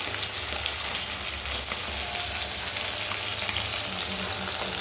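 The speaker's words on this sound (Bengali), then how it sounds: "পাবদা মাছগুলোকে লো ফ্লেমে এপিঠ ওপিঠ করে ঘুরিয়ে ফিরিয়ে ভালো করে ভেজে নিয়েছিলাম।" Pabda fish frying in oil on a low flame, giving a steady, even crackling sizzle that holds at one level for the whole stretch, close by and uninterrupted by speech.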